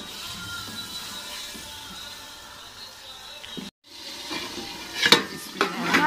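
Sizzling and scraping as 1.5 kg of liver is stirred into hot masala, a steady fry broken by a brief silent gap, then louder clattering spoon strokes and sharp sizzles near the end.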